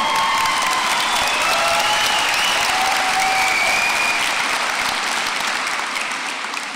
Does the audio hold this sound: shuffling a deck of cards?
no